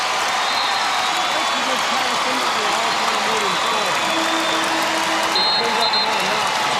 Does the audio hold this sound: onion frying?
no